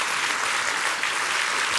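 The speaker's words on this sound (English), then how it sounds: "Give God and yourself a hand clap" Church congregation clapping hands together, a dense, continuous wash of many hands at full strength throughout the short stretch.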